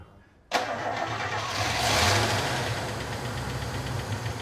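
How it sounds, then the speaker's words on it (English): A small car engine fired up after a repair catches abruptly and settles into a steady, loud, close idle with a slight knock and a brief swell in revs; no one speaks. "What a sound little engine that is."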